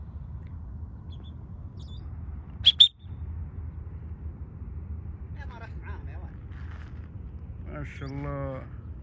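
A Senegal parrot gives a single sharp, shrill call over a low outdoor rumble, and a person talks near the end.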